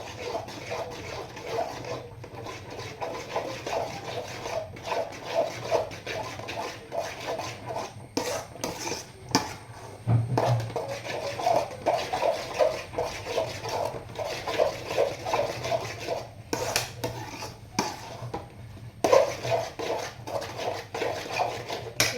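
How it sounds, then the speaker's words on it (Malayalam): Upma is stirred continuously in a pan to keep it from sticking, a steady close scraping and rubbing with occasional clinks of the spoon against the pan and no speech. "അടി പിടിക്കാതെയും ചക്ക പിടിക്കാതെയും ഒക്കെ ഇളക്കി കൊടുക്കണം"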